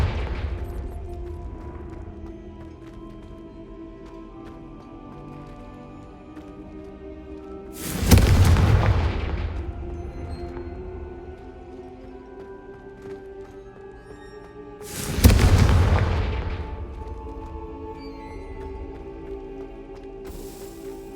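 Two deep, booming blasts from the Confringo spell in the Hogwarts Legacy video game land about seven seconds apart, each a sudden loud burst that rumbles and fades over a couple of seconds, set against a quiet, steady game ambience.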